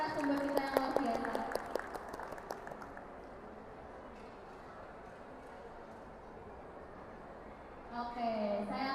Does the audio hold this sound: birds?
no